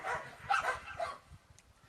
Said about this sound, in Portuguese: Ó, os cachorros estão animados hoje.